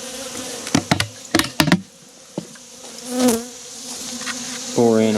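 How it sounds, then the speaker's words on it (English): Bees buzz around a bucket bee feeder, with a steady, close insect drone and several sharp clicks and knocks of the bucket in the first two seconds. "And we got a couple bees."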